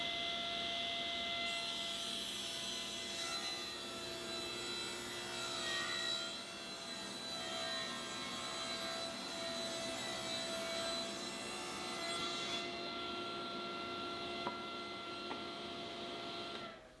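A saw rips a solid wood V-groove panel down to width, producing a continuous whining, rasping cut that holds steady and fairly loud for the whole stretch, with slight shifts in pitch as the blade moves through the wood.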